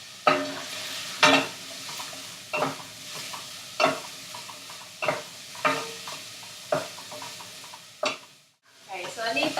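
Onions frying in coconut oil for pumpkin soup are stirred in a pan with a steady rhythm of scraping strokes, about one every second, over a continuous close sizzle, with a brief lull before a last quick flurry.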